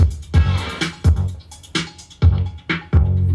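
Rhythmic music through a Mixars Duo MK2 DJ mixer filter, with punchy beats and bursts of bright noise, its tone sweeping as the filter opens and closes, loud with no talking.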